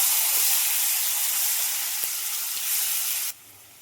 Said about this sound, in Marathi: आता हे मसाला लावलेला मासे सोडते मी त्यात